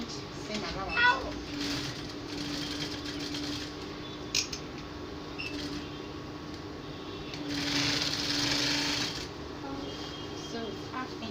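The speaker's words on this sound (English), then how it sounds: "Bring it together and sew it." A sewing machine stitches the inseam of a jumpsuit with a quiet, steady whir, running in short bursts and longer stretches, with someone speaking over the machine at times.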